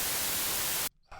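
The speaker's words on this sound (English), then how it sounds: "It's white noise, so it doesn't really matter what note we pick." Synthesized white noise from Ableton, a loud flat hiss that holds steady, then cuts off abruptly near the end before a brief return.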